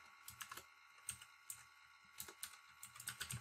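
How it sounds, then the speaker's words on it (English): Someone types on a computer keyboard, a quiet, close series of irregular key clicks in short bursts with brief pauses between them. "So we're going to type in here"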